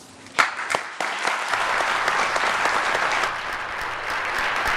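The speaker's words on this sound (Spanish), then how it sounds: "llevó aplaudidores en esa ocasión" Applause from hired clappers fills a legislative chamber, a dense steady patter with a few sharp louder claps near the start, sustained for the whole stretch.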